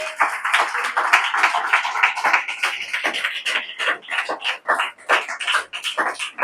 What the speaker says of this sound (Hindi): जोर से ताली बजाएंगे इसी के लिए